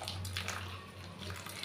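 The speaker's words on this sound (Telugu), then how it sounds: "సో ఇప్పుడు దీన్ని మనం మెల్లిగా కొన్ని వాటర్ పోసుకుంటూ కలుపుకోవాలి." Water pours and sloshes steadily and softly while pakoda batter of flour and chillies is mixed by hand, with a low constant hum underneath.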